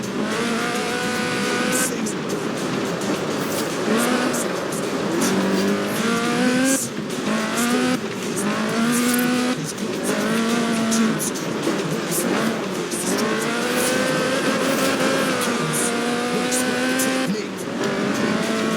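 A 1979 Lotus Sunbeam with a 250-horsepower 2.2-litre Lotus slant four-cylinder engine in Forza Horizon 4 revs and climbs through the gears, its loud engine note rising and falling with occasional tire squeal.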